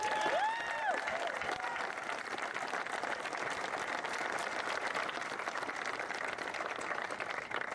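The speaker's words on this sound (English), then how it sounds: "So can we just give them another round of applause?" An audience applauds steadily at a grand opening ceremony for the GateKeeper ride at Cedar Point, a dense, even wash of clapping lasting throughout, with a brief tonal sweep near the start.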